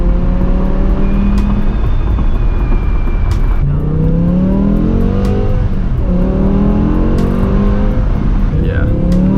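BMW M5 with V10 engine and Dinan exhaust, loud revving and accelerating up through gears, rising pulls broken by shift gaps, heard close from inside or near the car.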